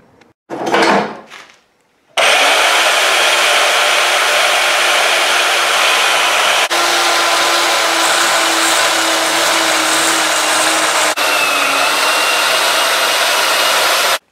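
Metal tubing cut for DIY control arms, with a short burst of tool noise followed by a loud, steady, sustained cutting whine lasting about twelve seconds, close to the microphone.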